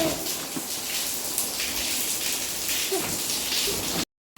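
Steady rain pours outside a house, a dense even hiss of drops on surfaces that continues without a break before cutting off abruptly.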